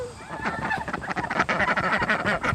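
Three duck doubles used on a film set honk and call in a busy, continuous stream of loud, overlapping bird voices close by.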